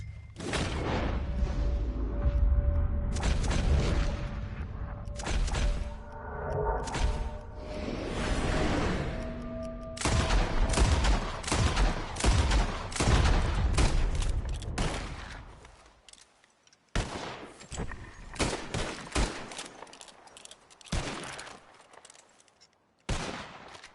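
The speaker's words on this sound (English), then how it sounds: "As soon as you see them, start shooting." Shots ring out in a Red Dead Redemption 2 shooting contest, with sharp gunfire volleys and scattered single cracks that thin into sparse, separated shots toward the end, with no talking.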